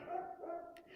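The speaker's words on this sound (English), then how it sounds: "See, my dogs are getting excited. I don't know if you could hear them in the background." Several pet dogs bark and yip excitedly in the background of a room, a brief sustained burst of fairly muffled barking at moderate distance.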